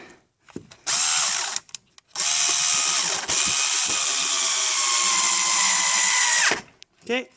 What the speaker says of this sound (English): I have this little handy dandy screw gun here that will help me get that in there